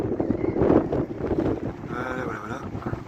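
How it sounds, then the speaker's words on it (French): Gusty sea wind on the seafront at Collioure buffets the microphone in rough, low rumbles, with a faint tonal whistle near the end. "Il y a un peu de vent."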